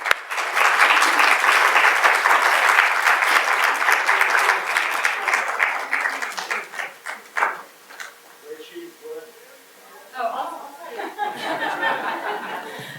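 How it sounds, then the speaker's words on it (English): Sustained audience applause after a museum talk honoring a departing assistant curator, dense steady clapping for about six seconds that thins out into scattered claps and faint chatter. "if we could just take a moment to give her a round of applause for all her hard work"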